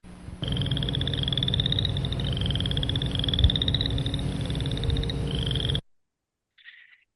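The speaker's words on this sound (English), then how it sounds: "Ignore the peepers in the background. And the chorus frog sounds like a finger being drawn across the teeth of a comb." Spring peepers and chorus frogs call in a dense, loud chorus that stays steady for several seconds, with repeated high, rising peeps over a low rasping trill. The chorus cuts off abruptly, and a brief faint chirp follows after a pause.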